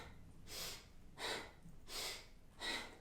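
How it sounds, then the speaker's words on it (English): Rhythmic nasal breathing during a spinal yoga exercise, with four sharp, breathy inhale-exhale bursts spaced evenly about 0.7 seconds apart. The breaths are close and fairly soft against a quiet background. "Listen to the breath."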